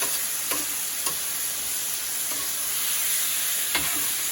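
Stir-fry noodles with green onion and leftover pasta water sizzle on a hot griddle in a steady frying hiss, with a few short scrapes and clicks of stirring spaced through it and no talking.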